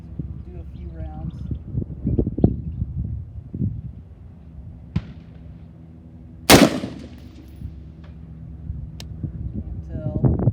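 Carbine shots ring out at an outdoor gun range, one sharp loud crack standing out among a few fainter distant reports, with people talking and wind noise around them.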